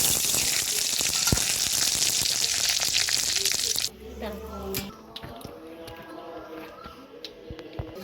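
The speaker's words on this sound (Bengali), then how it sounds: "এবার ওই তেলের মধ্যে দেবো দেখুন 2টো শুকনো লঙ্কা, দারচিনি, লবঙ্গ, এলাচ আর গোটা জিরে।" Dried red chillies, cinnamon, cloves, cardamom and whole cumin hit hot oil in a kadai with a loud, steady hiss for about four seconds, then settle into a quieter, crackling sizzle.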